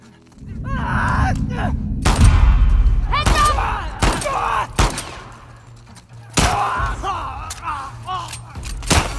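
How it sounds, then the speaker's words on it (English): Gunfire in the video game The Last of Us Part II cracks out in a string of sharp, loud shots, some single and some in quick clusters, with heavy booming thuds early on and quieter game ambience between. "Shouldn't we hear gunshots or something?"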